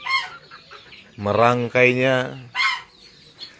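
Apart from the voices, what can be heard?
chickens clucking near a chicken coop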